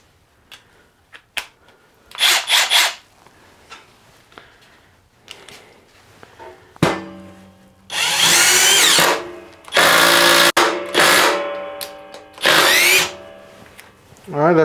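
A Hercules 20V brushless cordless compact impact driver drives a 2-inch screw in several loud, rattling bursts of hammering, separated by brief pauses and handling clicks, all close up.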